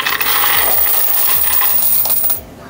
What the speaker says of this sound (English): let's go ahead and pour the quarters down